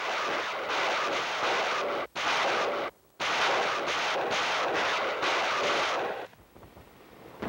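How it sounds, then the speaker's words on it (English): A barrage of rocket launchers fires in a sustained, roaring rumble of overlapping blasts, dense and loud, with two brief breaks before the noise thins near the end. "Early one morning, the rocket launchers move in and lay down a barrage."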